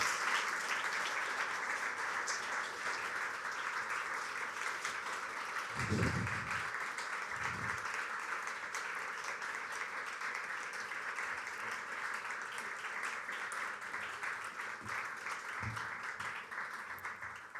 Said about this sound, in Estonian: suure aplausi saatel kutsume nad siis siia ette minu juurde